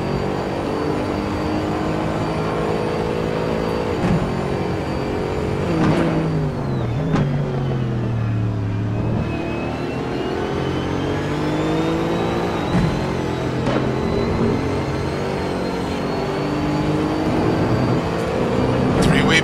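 Race car engines in Gran Turismo at the Hockenheim circuit rev, drop sharply on downshifts and climb again as several cars battle closely, a loud layered engine drone with shifting pitch running under commentary throughout.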